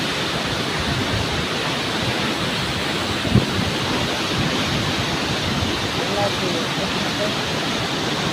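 Loud, steady roar of water rushing through the Kallanai dam, a dense unbroken wash of noise close by, with one brief knock partway through.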